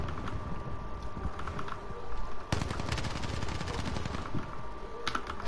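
Sniper gunfire in a first-person shooter video game, heard as repeated sharp cracks and rapid bursts amid constant in-game action noise and possible keyboard clatter, with one louder shot standing out midway.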